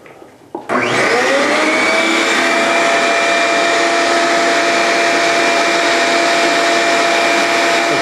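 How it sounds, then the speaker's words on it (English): A shop vac switches on after a brief clunk and runs with a loud, steady roar, vacuuming loose gold leaf flakes off a faux-painted breakaway modello panel. "I just take a shop vac, here's the nozzle, and I'll just hit this on and just start brushing this off"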